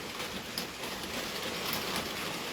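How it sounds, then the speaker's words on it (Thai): Rain drums on a metal sheet roof of corrugated zinc, a steady, dense patter filling the space close overhead with no talking. "แต่จะได้ตอนนี้ฝนตก"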